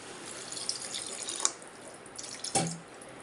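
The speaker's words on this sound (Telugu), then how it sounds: "దీంట్లో కొంచెం వాటర్ పోసేసుకున్నాం అండి," Water is poured into a spiced mixture for chapati, a soft, fairly quiet trickle and splash with a couple of brief louder splashes near the end, with nobody talking.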